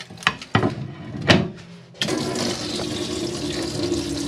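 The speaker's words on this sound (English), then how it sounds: "this shows the water pumps working" A motorhome's water pump runs with water gushing into a sink in a 2021 Auto Trail Scout, a steady close rush after a few sharp knocks and clatters.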